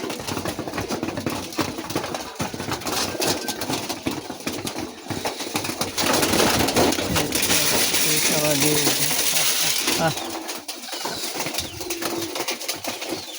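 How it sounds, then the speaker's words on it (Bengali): Raj golla pigeons coo and stir at a pigeon farm, their low calls mixed with wing flutters and scratchy movement close by, under a man's speech. "আসলে কবুতরের যে ডাকাডাকি যারা শৌখিন তারা এই জিনিসটা বুঝতে পারেন"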